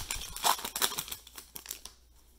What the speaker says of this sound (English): let's go ahead and rip with these cards now